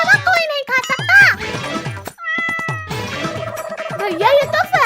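A cat meows repeatedly in a domestic comedy scene, several rising, drawn-out cries close by, mixed with children's voices talking and a faint jingle.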